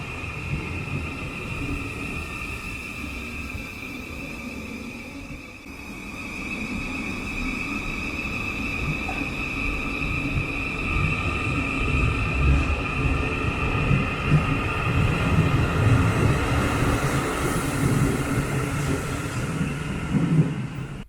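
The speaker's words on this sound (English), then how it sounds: "Let's watch this train leave." A London Underground train rumbles steadily along the Essex Road station platform, its drone and whine building in loudness as it pulls away, with no voices.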